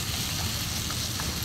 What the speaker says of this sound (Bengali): এরপর ভালো করে মশলাগুলো ভেজে নিচ্ছি। মশলাটা ভাজতে হবে ভালো করে।